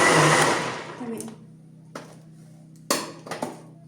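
A kitchen blender whirs loudly for about a second while mixing liquid cake ingredients, then winds down into a low hum, followed by a few short clinks and bumps of the jar.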